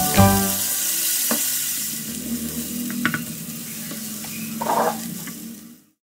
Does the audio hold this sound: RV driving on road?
no